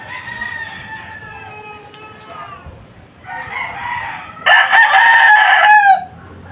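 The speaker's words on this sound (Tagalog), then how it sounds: "Hingay po ng mga manok dito mga kating. Yung mga manok panabong po ba." Fighting roosters crow loudly one after another, long drawn-out calls with a brief lull between, the last crow strongest and close by.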